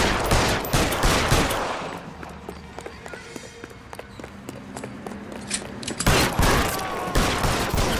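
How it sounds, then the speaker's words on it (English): Gunshots crack through a shootout in the detective game LA Noire, with heavy bursts at the start and end and sparser single shots between them, close and loud. "What are you shooting at, Roy?"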